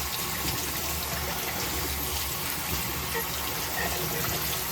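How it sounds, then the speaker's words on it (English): Water from a tap runs steadily over a craft piece being rinsed of acid, a continuous close hiss and splash lasting the whole stretch without speech. "So I'm going to rinse it and then I'm going to wash it with soapy water."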